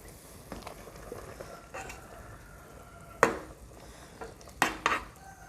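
Light soy sauce goes into a pot of simmering chicken wings in a three-flavor braise. A utensil stirs the pot, with a few sharp metallic clanks against it over a quiet bubbling background.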